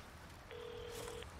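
A telephone in the game Resident Evil 4 Remake gives a single short electronic ring burst, faint and alone against a quiet background.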